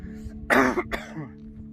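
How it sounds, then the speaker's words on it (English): A single harsh cough, close and brief, followed by a short throaty rasp, with low background hum. "Although I still got a cough"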